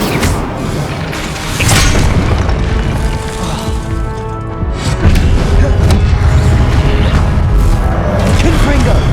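Incendio fire spell blasts in the video game Hogwarts Legacy, heard as repeated booms and crashing impacts amid battle clatter, with a voice shouting spell names over them.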